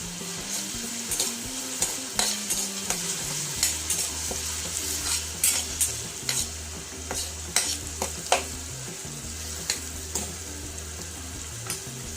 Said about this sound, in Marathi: हिरवी मिरची, कढीपत्ता छान तळू द्या।